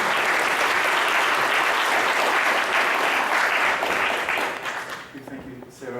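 Loud, dense applause from an audience at a political solidarity gathering, steady for several seconds and then tapering off as a voice begins to speak.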